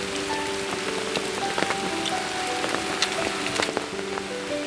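Steady rain pattering on surfaces outdoors in a village during a windstorm while mangoes are picked, a dense continuous wash with scattered sharper drops, loud and close, with no talk.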